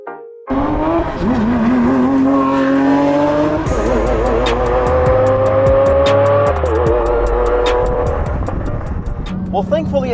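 A 2022 Lamborghini Aventador Ultimae accelerates hard, its loud engine note climbing steadily through the gears, with brief shift breaks before the pitch rises again. There is no speech.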